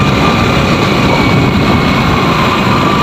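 A motorcycle engine runs close by with a loud, steady low rumble and constant drone, unbroken throughout with no talking.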